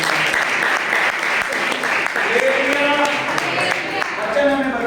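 A church congregation at a Punjab revival meeting claps loudly and steadily throughout, a dense wash of applause with voices rising in the mix, including singing or shouting toward the end.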